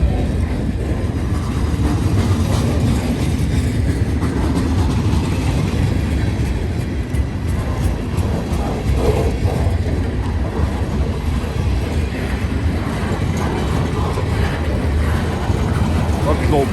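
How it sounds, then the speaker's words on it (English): A freight train over two miles long, with old boxcars, rumbles past nearby, a steady heavy roar with faint rhythmic clatter that continues unbroken throughout. "This train is going to be over 2 miles long."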